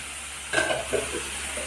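Tomato and curry leaves drop into a hot pan and start frying, giving a short burst of sizzle and stirring over a steady hiss, close and fairly quiet.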